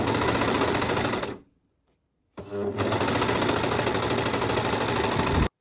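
A sewing machine stitches a seam on men's boxers in two steady, close runs separated by a short silent pause, with no voices.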